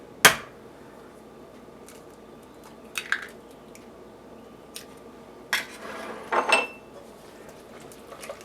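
A spoon works eggs into thick cream puff dough in a bowl for a 1964 Wisconsin Dairyland recipe, giving scattered wet squelches and sharp clanks against the bowl, with a cluster of busier strokes near the end.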